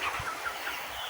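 Broiler chickens on a farm clucking, a short burst of overlapping low clucks and murmurs from a nearby flock.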